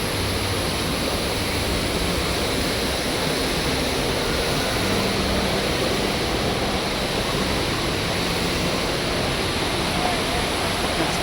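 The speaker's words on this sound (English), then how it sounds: "There's the fountains." Water fountains cascade at a tour site, giving a loud, steady rushing wash that stays unbroken throughout.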